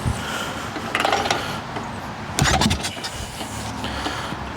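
Ironhead-engined swap meet chopper motorcycle being kick-started with throttle closed and enrichener on, two bursts of kicking and sputtering engine noise over a steady rumbling background, close and fairly loud.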